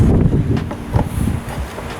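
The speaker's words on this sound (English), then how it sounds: "It's wet, it's windy, and it's quite dull basically." Steady wind blowing outdoors on a wet, dull, overcast day, a constant low rumble buffeting the microphone with small gusts and rustling throughout, no talking.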